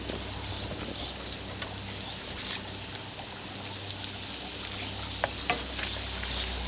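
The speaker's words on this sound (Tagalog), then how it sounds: "Once the oil is hot, add the garlic and saute." Garlic sizzles in hot oil outdoors, with butter added to the pan, a steady close crackling fry broken by occasional stirring clinks and spits.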